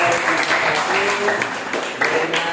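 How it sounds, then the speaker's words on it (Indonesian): A classroom of students applauds a presentation with brisk, close clapping that carries through the whole moment, some voices mixed in. "Kita berikan aplaus bagi teman-teman"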